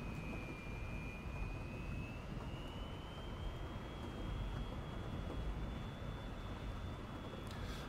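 A steady, loud Su-27 jet engine roar in a flight simulator game, with a rising whine, continuous throughout as the fighter accelerates down a runway in a crosswind.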